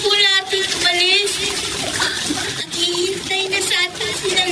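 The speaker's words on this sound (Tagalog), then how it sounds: "malakas ang agos ng ilog" Strong current of a flowing river, a loud continuous rush of water under talking voices and music.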